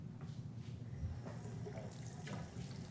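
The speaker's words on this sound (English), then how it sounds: "So I'm going to go ahead and rinse my hand." Hands are rinsed under a running tap, with water splashing steadily and quietly against the sink and a few brief louder splashes as the hands move.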